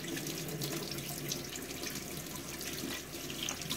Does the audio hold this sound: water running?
yes